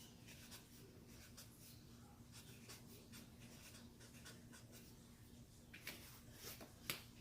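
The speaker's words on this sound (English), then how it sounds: "let me get my marker. And I'm going to write" A marker writing on seed starter labels, soft scratchy strokes in short bursts, close but faint over a steady low hum, with a few louder taps near the end.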